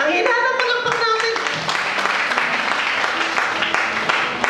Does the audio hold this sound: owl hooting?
no